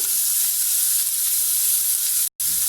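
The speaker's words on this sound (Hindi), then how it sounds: "प्याज को थोड़ा सा सौते कर लेंगे, ब्राउन नहीं करना है हमने, बस थोड़ा सा ही 30 सेकंड के लिए" Onion sautés in two tablespoons of hot oil, a loud, continuous bright sizzle heard up close, broken by a brief moment of silence near the end.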